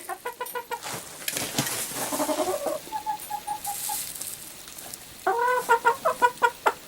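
Hens in an unheated coop cluck close by at a new feeder, giving bursts of rapid rhythmic clucks, a short run of steady notes in the middle and a louder pulsing series near the end.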